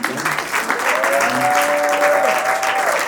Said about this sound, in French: C'est comme ça que vous l'applaudissez, Lila